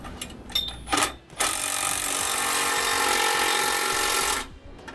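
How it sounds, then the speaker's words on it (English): Bracket hardware on a 2018 GMC Sierra 2500 braking-system install is tightened with a 9/16 socket: a few short clicks, then a close, steady mechanical whir lasting about three seconds before it stops. "we're gonna come back with a 9/16 wrench and socket and tighten them up"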